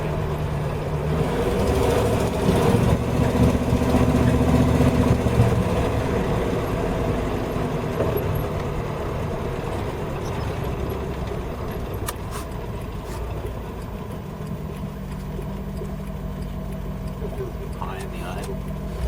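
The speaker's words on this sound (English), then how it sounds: "High in the idle." A Holden HJ car engine idles high with a steady, droning rumble that carries on throughout, while people talk over it.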